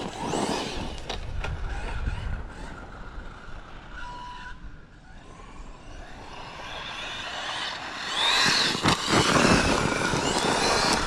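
An Arrma Fireteam 6s RC truck with a Vitavon upgrade, a 1650 motor and a 23-tooth pinion drives hard. Its loud, whirring motor and rough rolling noise swell and surge, rising again toward the end.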